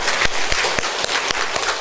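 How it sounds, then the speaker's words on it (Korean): Church congregation at a Sunday service applauding to welcome three people, with loud, close, rhythmic clapping that beats evenly in unison. "우리 세 분 한 번 더 힘차게 환영의 박수 하겠습니다"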